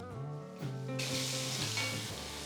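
Chopped onion, garlic and asafoetida sizzle steadily in a hot pan for Baingan Bharta, a close, continuous frying hiss that swells louder partway through, with no talking.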